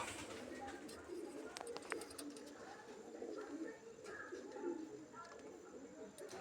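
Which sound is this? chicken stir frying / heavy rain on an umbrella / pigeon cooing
pigeon cooing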